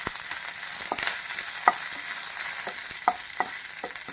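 Coriander leaves and curry leaves sizzle steadily in hot oil for a Kerala-style vegetable stew. Scattered scrapes and taps of a stirring spoon break the close, continuous frying hiss, with no voices.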